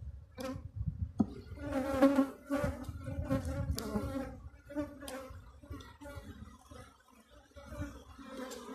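Honey bees buzz steadily from an open beehive during a frame inspection, a close, dense drone with occasional louder passes near the microphone.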